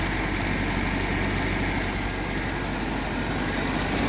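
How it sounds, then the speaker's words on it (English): A 2007-2013 BMW X5 E70 N62 V8 engine idles steadily at operating temperature with a constant low rumble and the whir of a cooling fan, close by and unchanging. "the engine is up to temperature, the fan is spinning"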